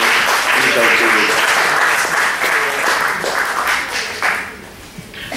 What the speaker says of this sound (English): give yourselves a round of applause for being here in this initial series